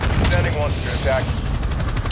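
Gunfire in Call of Duty: Modern Warfare 2 (2022) during a co-op mission, rapid bursts of shots rattling loudly alongside game sound effects and radio-style chatter, no clear single isolated shot.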